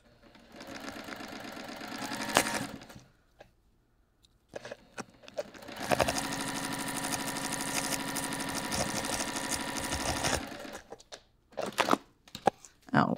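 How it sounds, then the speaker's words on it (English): Sewing machine stitching fabric, a fast steady mechanical whir in two long runs separated by a pause, close and fairly loud, with handling noises at the end. "I am going to stitch this once more."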